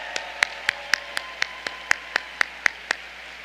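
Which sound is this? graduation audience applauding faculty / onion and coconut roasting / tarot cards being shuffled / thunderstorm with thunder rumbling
graduation audience applauding faculty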